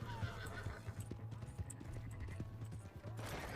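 A video-game horse whinnies over rapid clip-clopping hooves, with a steady low hum underneath; brief, fairly quiet and slightly synthetic-sounding.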